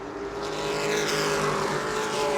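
Race cars roar past on the short oval at New Smyrna during the World Series night racing, a loud, dense engine blur with cars splitting through lap traffic, sustained and close, no talk over it.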